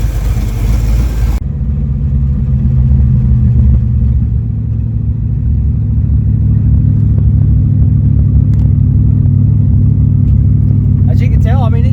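Steady low rumble of a 1994 Chevrolet S10 Blazer V8 after a tune-up with a single muffler, heard from inside the cab while driving, continuous and loud, with someone talking over it.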